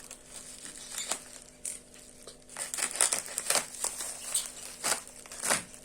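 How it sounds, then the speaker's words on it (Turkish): Plastic packaging of EuroStar Aquaclay aquarium plant substrate being opened, a series of close, crisp crinkles and crackling rustles in irregular bursts, with no talking. "paketlerinden açalım"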